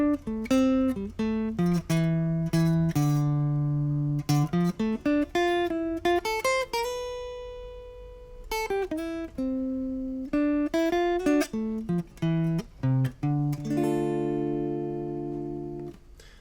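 A guitar plays Dorian-mode phrases, mixing plucked single-note runs with sustained chords and ringing held notes, clear and close with no voices.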